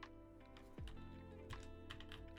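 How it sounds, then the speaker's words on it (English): Typing on a Tofu65 mechanical keyboard fitted with Invyr Holy Panda switches, a run of soft, closely spaced clacks at moderate level with a brief low thump partway through. "I just love the sound of this keyboard"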